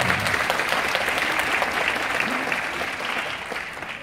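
Sustained applause from an audience greeting guests at a Suwon taekwondo demonstration team festival in an indoor concert hall, dense steady clapping filling the whole stretch at an even level.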